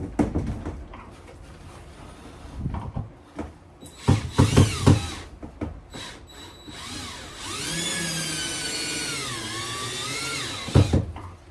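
A power drill drives screws into a vintage camper bar in bursts, with short whirring runs, a long sustained whine that bends in pitch, and clattering handling noises between them.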